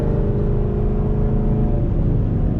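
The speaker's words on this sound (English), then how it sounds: "And now you got rev match, so as you downshift, it'll rev up." A Chevy car engine with a manual stick shift revs up as it downshifts with automatic rev matching, a steady, loud, close drone from inside the cabin with no talk.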